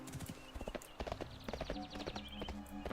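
Hoofbeats of a horse mount in World of Warcraft, a steady clip-clop walking rhythm close by, with a short whinny and game ambience layered over it.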